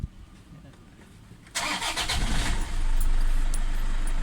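A Toyota Innova with a blacked-out gauge panel and blinking timing-belt warning light cranks and starts nearby, settling into a steady, louder idle, with a voice talking quietly beforehand.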